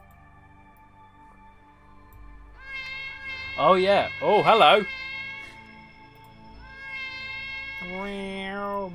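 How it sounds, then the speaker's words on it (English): Cat meowing on a game development livestream, a couple of loud drawn-out meows in the middle and another near the end, with someone talking quietly around them. "Mega meow."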